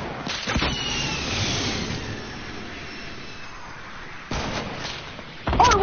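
In a shooter video game, an RPG rocket launches with a sustained rushing whoosh, followed by two abrupt, loud bursts near the end.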